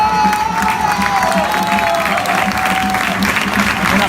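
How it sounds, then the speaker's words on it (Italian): At an Eccellenza Sicilia football match between Folgore Castelvetrano and Don Carlo Misilmeri, the stadium crowd applauds steadily during a substitution, with scattered cheers and a commentator's voice faintly underneath. "Un applauso meritatissimo."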